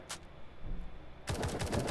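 Gunfire in the Roblox game War Tycoon: a quiet, low rumble with a single crack near the start, then a rapid, loud automatic burst from about one and a quarter seconds to the end.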